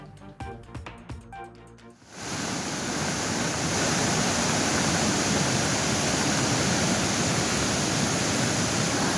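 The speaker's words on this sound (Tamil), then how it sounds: "அமனலிங்கேஸ்வரர் கோவிலை சூழ்ந்தபடி ஆர்ப்பரித்து செல்லும் வெள்ளம்." Floodwater after heavy rain roars past the temple at Panchalinga waterfall as a dense, steady rush of noise that swells in and then holds loud and unbroken, after a short stretch of other sound.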